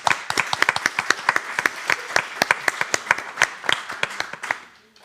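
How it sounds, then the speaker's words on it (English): A small audience at a symposium claps steadily for several seconds for a panel of speakers, sharp individual hand claps close and distinct, then the applause tapers off. "let's give an applause to our panelists"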